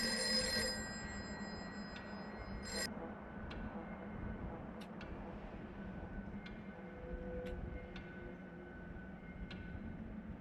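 A telephone rings in a house, with a sharp bell burst near the start and then a few faint, brief rings over a steady low hum, with no talking.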